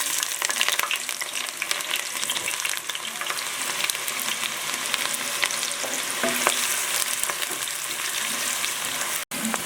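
Large chopped onions frying in oil for kari kothu parotta, a loud continuous close sizzle with occasional stirring scrapes throughout.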